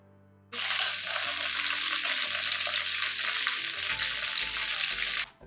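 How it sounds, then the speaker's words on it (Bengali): Cauliflower florets frying in hot refined oil, a loud steady sizzle that starts abruptly and holds for several seconds before cutting off, with no voices over it. "তেলটা গরম হয়ে গেলেই আমি এর মধ্যে একে একে ফুলকপিগুলোকে ছেড়ে ভালো করে একটু ভেজে নেব এপাশ ওপাশ করে"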